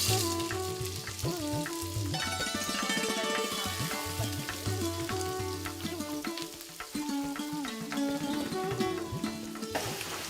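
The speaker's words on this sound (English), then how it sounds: "Once it's heated up, we need to put the onions." Onions frying in hot oil in a pan on a cookery show, with a steady sizzle and frequent stirring scrapes and taps running throughout, close and even in level, no one speaking.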